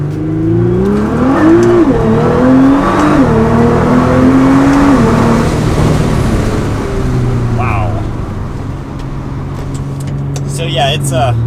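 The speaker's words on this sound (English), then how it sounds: "no GT-R video would be complete without an acceleration, so we'll get on this road and accelerate" A Nissan R35 GT-R accelerates on a road, engine note rising through the gears in loud sweeping pulls from inside the cabin, with a shift break partway and talking over it.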